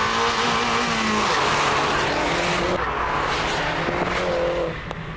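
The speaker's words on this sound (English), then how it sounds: "Look at this footage of the Abarth 500C leading the John Cooper Works Mini into corners." An Abarth 500C leads a John Cooper Works Mini through corners, engines droning loudly with shifting revs and tyre squeal, a continuous close onboard roar.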